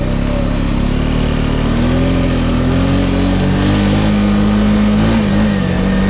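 A Honda Rubicon 500 ATV engine runs in low range with a loud, steady drone. Its pitch rises and falls slightly as it revs, close up and heard alone.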